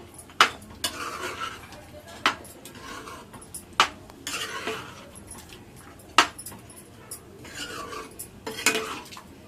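A spoon stirs butter chicken in a metal pot, giving a series of sharp clinks and scrapes against the pot between softer wet mixing sounds.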